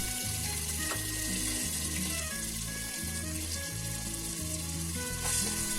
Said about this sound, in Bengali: তো আমি পেঁয়াজটা নেড়ে চেড়ে দিচ্ছি 1 থেকে 2 মিনিটের মতো।